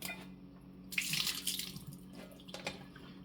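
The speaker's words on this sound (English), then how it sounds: "I've got reverse osmosis in this next tap" Water runs from a reverse osmosis tap into a sink in a home kitchen, a steady close splashing stream with brief stronger bursts of flow and no talking.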